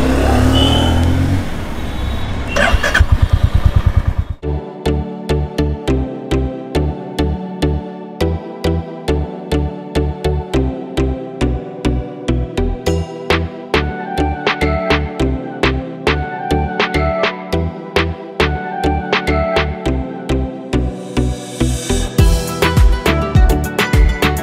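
An All New Royal Enfield Classic 350 motorcycle engine runs on a ride after its first service, giving a loud, close, steady train of regular thumping exhaust pulses that starts after a brief burst of rougher noise.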